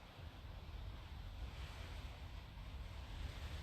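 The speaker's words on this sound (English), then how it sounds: "Sorry if you can hear that wind and rain outside." Wind and rain outdoors during a thunderstorm make a steady, broad roar that holds at an even level throughout, with gusty low rumble and no speech.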